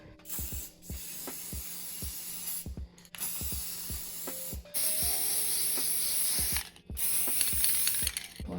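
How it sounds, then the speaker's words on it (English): Rust-Oleum metallic spray paint hisses onto cabinet hardware in several short bursts, each separated by brief pauses and accompanied by a busy ratcheting rattle from the can. "Rust-Oleum metallic finish. I'm gonna do a super light coat over the first one."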